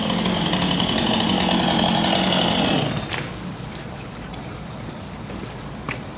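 A chainsaw cutting down an orange tree roars loudly at full throttle for about three seconds, then drops off sharply to a quieter, rougher rumble.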